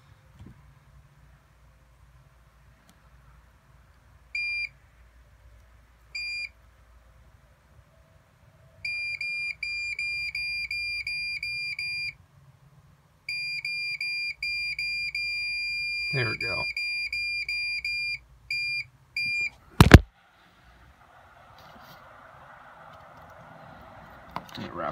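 Multimeter continuity tester beeping on a wire, sounding as thin, steady electronic tones in short stuttering bursts that later hold longer, broken up by handling noise and a brief spoken remark.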